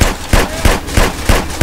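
Desert Eagle pistol fire in GTA San Andreas: six loud, close shots in a steady rapid rhythm, each a sharp crack with a brief booming tail.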